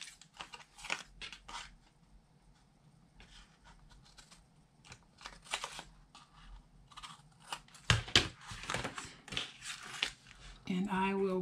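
Scissors snip the corners of paper while making a desk calendar, producing sharp clipped cuts in irregular bursts, close and fairly quiet, with a short rustle near the end.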